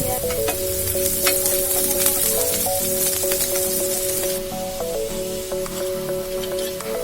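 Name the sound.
marinated boneless chicken frying with sautéed onions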